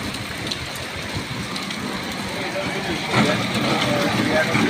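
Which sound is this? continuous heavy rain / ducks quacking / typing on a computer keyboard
continuous heavy rain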